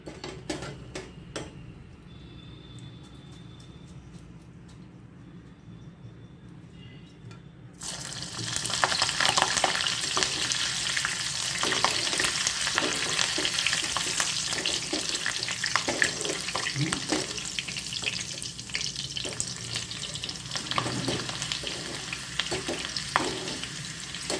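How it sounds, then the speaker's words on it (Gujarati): Green chillies frying in hot oil for jada pauva chevdo, a quiet start giving way to a loud, crackling sizzle with busy spitting pops that keeps going steadily to the end. "ત્યારબાદ આપણે લીલા મરચાં તળશું"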